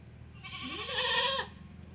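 Several goats bleat together in one drawn-out wavering call at a farm, rising in the middle and fading after about a second, over a low steady background hum.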